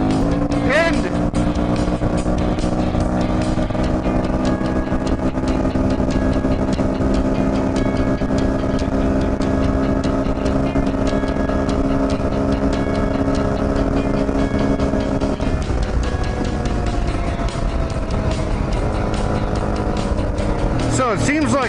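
A 2004 Honda XR400R dirt bike engine held at wide open throttle on flat ground near top speed, a loud steady droning roar with dense harmonics that dips briefly partway through, then climbs again.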